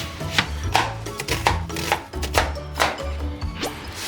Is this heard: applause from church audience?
no